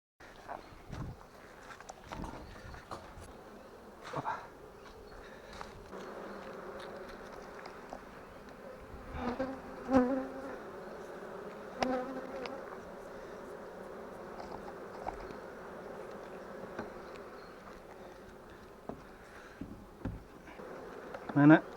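Honey bees swarm around an open hive being inspected, its frames heavy with honey, making a dense continuous buzz close by, with occasional knocks and handling sounds of the frames.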